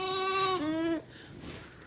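A lamb bleats once, a loud, close, wavering cry that drops in pitch, followed by quiet background.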